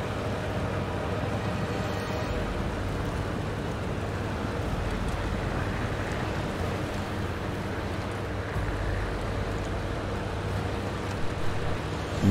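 A heavy truck in the SnowRunner video game wades through a river, a steady low engine drone blended with continuous washing, churning water noise, even and unbroken throughout.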